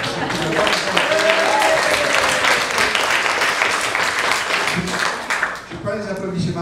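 An audience applauds at a public conference on Linky electricity meters. Dense clapping fills the whole stretch, with talk mixed in underneath.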